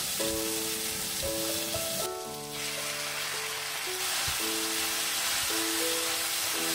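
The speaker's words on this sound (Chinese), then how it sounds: "土豆炒到边上有一点透明的感觉，就可以放入鸡肉了" Potatoes and mushrooms stir-fry over medium heat with a continuous sizzle, heard under louder background music with sustained tones.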